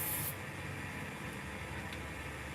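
A spray bottle hisses as ink solvent is sprayed to clean screen printing squeegees, a brief sharp spritz followed by steady soft broadband hiss.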